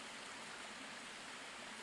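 A river and waterfall in a frozen forest in France rush with a steady, even hiss of flowing water, moderately distant and unbroken, with no voices present.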